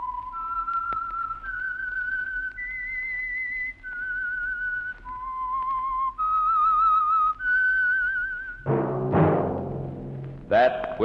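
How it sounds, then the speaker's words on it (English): A whistled signature melody for The Whistler radio mystery program, sponsored by Signal Oil, rises and falls in clear sustained notes, followed by a loud burst of orchestral music near the end. "That whistle is your signal for the Signal Oil Program, The Whistler."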